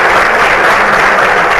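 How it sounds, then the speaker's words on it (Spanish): An audience at a book presentation applauds for the host, a loud, dense wash of clapping that holds steady through the brief moment. "Yo les pido también un aplauso para ella, por favor"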